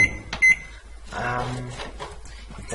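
A Samsung microwave oven set to 600 watts, with a sharp beep and the door clunking shut, then the hum of the oven starting to run.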